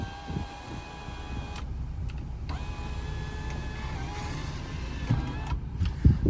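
An electric motor hums steadily as the power sunroof of a 2002 Toyota 4Runner Limited opens inside the cabin, with a constant mechanical whine and a few small clicks and thumps.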